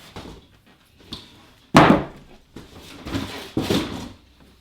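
A heavy electric skateboard box is opened, giving sharp cardboard thuds and scraping flap and packaging rustles in a few close bursts separated by quiet gaps.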